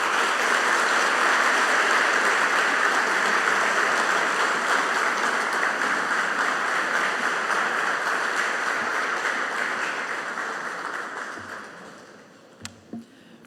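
A large conference audience applauds at length after a speech by President Luis Abinader, a dense, steady roar of clapping that holds for about ten seconds before tapering off into a few scattered final claps.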